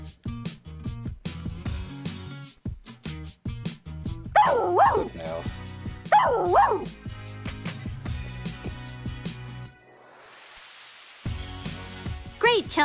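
A puppy in the Barbie puppy rescue video game gives several high, wavering yips and whimpers over bouncy game music, with two clear bursts close together and then a brief swish of sound effects.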